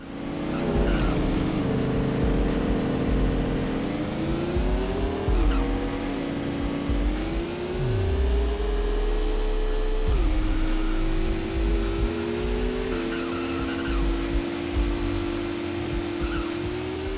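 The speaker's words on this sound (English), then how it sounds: "the engine really feels like you are driving a remote-controlled car" Whiny RC car engine from the Dreamcast racer Re-Volt, a continuous high buzzing motor that rises and falls in pitch as the toy car accelerates and shifts, with occasional tire squeal, loud and steady throughout.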